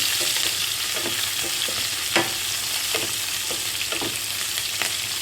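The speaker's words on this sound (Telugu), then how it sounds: "ఇదిగోండి ఇలా వేసి మొత్తం అన్నీ వేయించుకోవాలి" Green chillies, curry leaves and dry red chillies fry on a simmering flame, with a constant close sizzle and occasional crackles and spoon taps as they are tossed.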